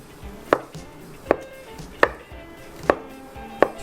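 Surimi roughly chopped with a knife on a cutting board, five evenly spaced solid thunks about a second apart, close and clear over a low room hum, no one speaking.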